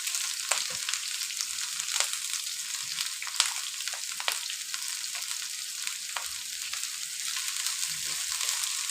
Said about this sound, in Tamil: நம்ம இந்த மாதிரி கரண்டியை வச்சு நல்லா மிக்ஸ் பண்ணிக்கலாம். எல்லாத்துக்கும் எண்ணெய் படுற மாதிரி நம்ம மிக்ஸ் பண்ணிக்கலாம்.